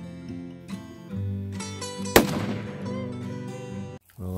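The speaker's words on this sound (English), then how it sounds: "I'm going to take one more shot." A single loud, sharp rifle shot cracks out while a rifle is sighted in for hunting season, ringing briefly over steady background music.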